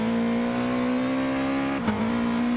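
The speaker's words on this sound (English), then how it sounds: "that also sounds like engine damage for Damon" A damaged race car engine in GT Sport holds a steady, harsh buzzing drone at one pitch. A brief crackle breaks into it near the end.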